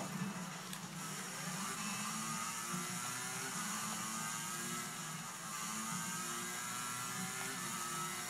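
A Ducati motorcycle ridden as Valentino Rossi at Jerez in the PS3 racing game MotoGP 10/11 whines steadily as it accelerates, its engine pitch climbing in a continuous, moderately quiet drone with no talk.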